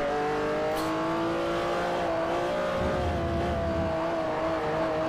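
A big all-wheel-drive Lamborghini supercar races in Forza Motorsport 4, its engine holding a loud, sustained high-revving whine with slight pitch shifts, close and continuous, and no one speaks.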